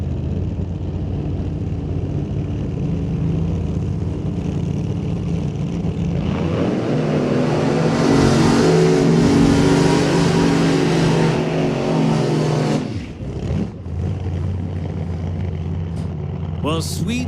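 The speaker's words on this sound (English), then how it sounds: "Not shy about putting the hammer down for the burnout." An old-time drag racing car at the line revs hard for a burnout, its engine a loud, sustained roar that swells midway, then cuts off abruptly and drops back to a lower rumble.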